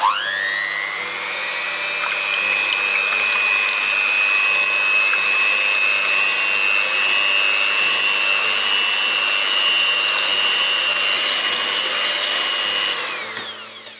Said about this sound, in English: Now the egg whites I had from earlier, I'm going to whisk that with an electric whisk and try and get them fluffy